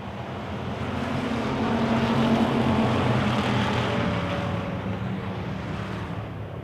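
Wissota Pure Stock cars race on a dirt track, a continuous roaring wash of several engines that swells in the middle as the pack passes and then eases off, heard from a distance with no talk.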